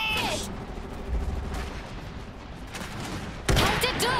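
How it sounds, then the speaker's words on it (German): Battlefield gunfire in the real-time strategy game Iron Harvest, dense bursts of shots and rattling fire throughout, with a louder crack near the end and game voices mixed in under the shooting. "Wir stehen unter Beschuss."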